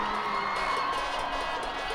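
Large crowd in the stands at a 1998 high school football game, a steady broad roar of cheering and shouting, with whoops and children's voices, sustained and fairly loud throughout.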